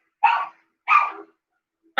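A dog barks twice, two clear separate woofs about half a second apart, close and fairly loud against an otherwise silent background.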